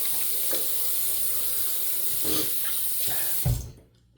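A safety razor is rinsed under a running tap, a steady close rush of water broken by a few splashing taps before the flow stops abruptly near the end.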